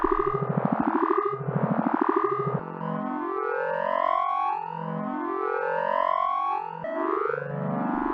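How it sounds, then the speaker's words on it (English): Software-generated tones between 120 and 840 Hz sweep and glide in repeating curved patterns, first with a buzzy pulsing texture and then as smooth, overlapping rising and falling synthetic tones, steady and continuous without any voice. "The sounds you hear are between 120 and 840 Hz"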